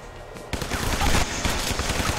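Rapid gunfire in a video game bursts in after a short quiet lead-in, a dense, loud stream of overlapping shots lasting about two seconds.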